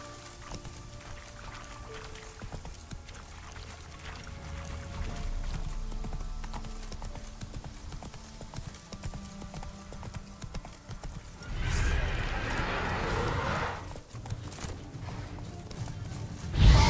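Hooves clip-clop steadily from a horse in the Witcher 3 video game, with whinnies and neighs rising over a busy game soundscape and a louder burst of galloping near the end.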